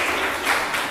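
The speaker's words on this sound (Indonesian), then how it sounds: "Oke, tepuk tangan untuk kita semuanya." Applause from students in a classroom, a brief steady patter of many hands at moderate level with no voices over it.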